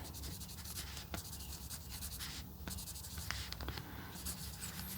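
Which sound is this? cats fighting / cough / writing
writing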